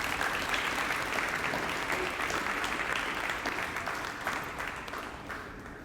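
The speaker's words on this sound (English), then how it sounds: "Huge round of applause" Crowd applause at a high school baseball letter-of-intent signing event, sustained even clapping from a sizeable audience that slowly tapers off toward the end.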